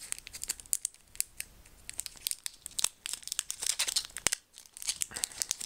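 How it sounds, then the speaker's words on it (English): A Pokémon card booster pack is torn open close up, giving sharp, irregular tearing and crinkling of the foil wrapper in quick bursts with a brief pause near the end. "I failed to open it properly once again."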